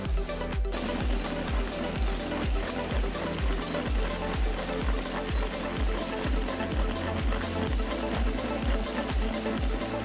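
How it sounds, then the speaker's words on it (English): A circular braiding machine runs continuously, a dense mechanical whir with a fast, regular rhythmic clatter repeating evenly throughout, loud and close. "this circular braiding machine offers an ASMR-like experience"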